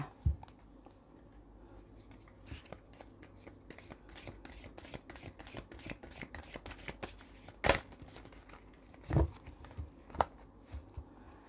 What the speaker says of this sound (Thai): ขออนุญาตสับไพ่ค่ะ